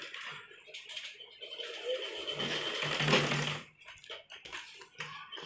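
A sewing machine stitches the inward-folded pleats of a churidar pajama seam, a steady close mechanical whir running for several seconds alongside faint background noise.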